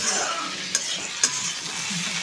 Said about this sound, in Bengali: এটা একটু ভেজে নিই হালকা করে।